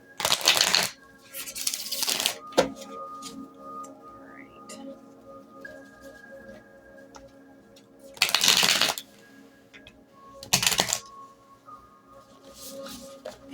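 Several bursts of tarot card shuffling, a riffle at the start and more in the middle and end, with quiet handling noises between.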